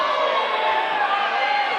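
Wrestling fans at an NWL Kansas City show roar and chant steadily for Thor Theriot, a dense, continuous crowd wall of voices with no breaks across the whole stretch.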